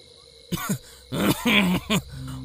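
Old man in a horror audio drama gives a few rough, throaty coughs and throat-clears in short bursts, close and clear over a faint background of night insects.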